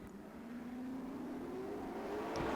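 Five sprint cars pulling away at the start of a dirt-track race, a distant engine drone rising steadily in pitch as they accelerate, faint and far off with a brief rise near the end.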